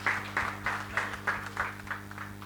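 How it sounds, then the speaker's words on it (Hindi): Audience clapping at a film trailer launch tribute event, heard as a rhythmic, steady chant-like clap about three beats per second, moderately faint over a constant low hum from the venue's sound system. "ये तालियां नहीं रुकनी चाहिए"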